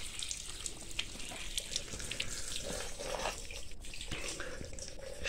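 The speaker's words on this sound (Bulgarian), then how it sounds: "Сега трябва обилно да се измият съдовете с вода." Water runs and splashes while vessels for homemade wine are rinsed, a steady gushing stream with scattered clinks and drips against the containers.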